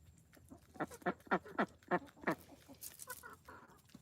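Several short clucking bird calls in a quick irregular series, fairly close, followed by softer chirpy calls; no talking.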